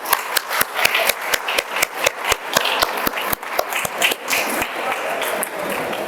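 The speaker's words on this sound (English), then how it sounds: "I just want to give you a round of applause." Graduating class of 12th Science at a school valedictory ceremony gets a round of applause: steady rhythmic hand claps, a few hands close by, lasting several seconds without talk.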